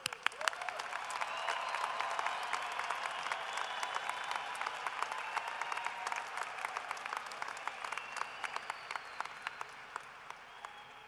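A large audience at a university fall commencement claps for the graduates, a dense steady wash of applause that swells, then thins into scattered sharp claps near the end.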